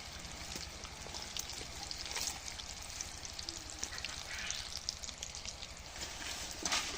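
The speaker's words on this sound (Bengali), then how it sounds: "তেল দিতেছি না এই যে এইগুলা ভাজি করছি" Food frying in a small amount of oil in a home kitchen late at night, with the oil running low. A steady, dense crackling sizzle runs throughout with no one speaking.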